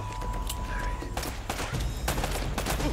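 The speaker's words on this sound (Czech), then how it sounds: "Už máme první přestřelku." Bursts of gunfire crack out in a video game shootout, several sharp shots in irregular clusters, with game sounds and a faint voice beneath.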